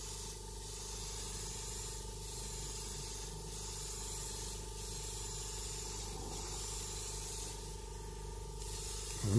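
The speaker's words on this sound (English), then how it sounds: "just really gently, a nice wide fan, just putting a real light dust coat on" An airbrush spraying a light dust coat of Alclad chrome paint in a wide fan over gloss black, a continuous close hiss in short gentle bursts over a steady background hum, with no talk.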